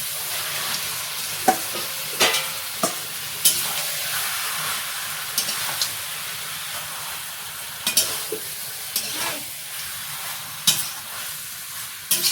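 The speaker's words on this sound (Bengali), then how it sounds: "এবার মাংসটা দিয়ে দেবো" Duck meat sizzles and fries in a hot pan while it is stirred, giving a continuous loud hiss broken by repeated scraping clatters of the spoon against the pan.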